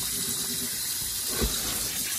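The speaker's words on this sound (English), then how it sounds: "it's important to wash your meat" Tap water runs steadily in a sink as meat for fried sticky ribs is washed under it, a continuous close gush with a brief splash midway.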